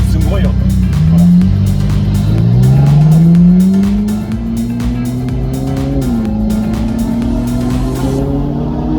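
A Ferrari engine roars loudly nearby on a mountain pass road, revving up in pitch, dipping, and climbing again with a harsh, buzzy rasp.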